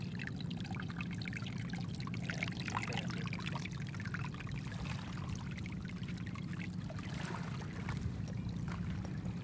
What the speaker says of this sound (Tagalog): Medyo lagas-gas ng tubig.